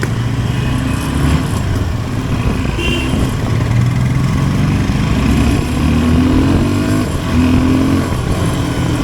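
A car cruises steadily along a road on a drive from Nageshwar toward Dwarka, its engine humming in a continuous low drone with road and wind noise throughout and no talk.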